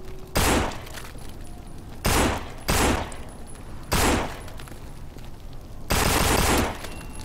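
Gunfire in No More Room In Hell, a zombie shooter: five loud, close bursts of rapid shots, each lasting under a second, separated by pauses, with the last burst longer.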